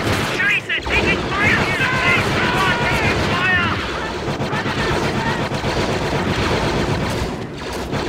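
Dense, continuous gunfire and explosions in a Star Wars Frontlines battle on Naboo, with rapid bursts and heavy booms layered together under shouted voices.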